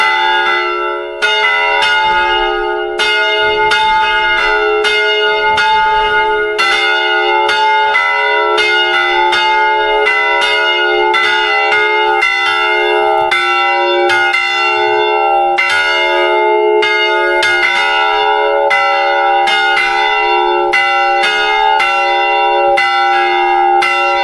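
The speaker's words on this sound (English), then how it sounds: "the church is under construction and we couldn't ring the bell earlier" Church bell in Grytviken, South Georgia, at a church under construction, rings loudly and steadily, its sustained ringing tones overlapping continuously with fresh strikes every second or so, with no voices.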